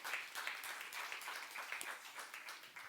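A church congregation applauds during a youth service sermon, a soft, steady patter of many hands that sounds distant and continues throughout.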